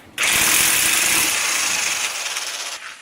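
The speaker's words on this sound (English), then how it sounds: "the way to know that it's done is the impact wrench will kind of start struggling a bit more" An impact wrench drives extended lug bolts on a Subaru BRZ / Toyota 86 in one loud, close, continuous burst of rapid hammering that lasts about two and a half seconds before cutting off.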